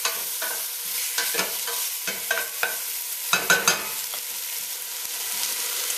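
A cleaned halibut fish head is moved around in a pot on low heat, giving soft sizzling with scattered scrapes and clinks of the utensil, close and fairly loud.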